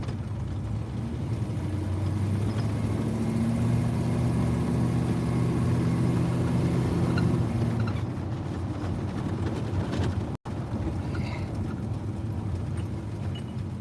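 Car on a test drive after a rebuilt 700 automatic transmission, a steady engine drone and road rumble from inside the cabin that eases off partway through, with a short dropout.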